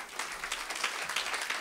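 A church congregation applauds during an online French worship service, with dense, steady clapping that fills the space evenly and continues without a break.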